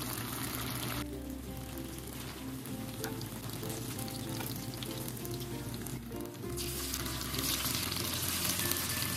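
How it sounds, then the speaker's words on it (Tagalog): Tofu sizzles steadily in a hot pan of oil while cooking for a seafood pancit Malabon, a continuous close crackle and hiss with a low hum underneath and no talking. "Tuloy-tuloy lang po tayo hanggang maiprito natin ang mga tofu natin"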